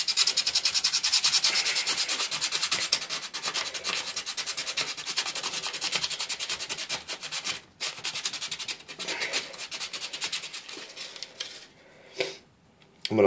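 A Dovo straight razor blade is hand sanded with quick, rhythmic back-and-forth strokes, a close, gritty scraping that runs continuously and breaks into brief pauses near the end.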